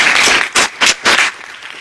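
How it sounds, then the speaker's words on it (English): Short bursts of applause from a conference audience at a closing session, a few brisk pulses of clapping that swell and fade within a couple of seconds, close by and without talk. "I want to give an applause to both Luc and Jurgen"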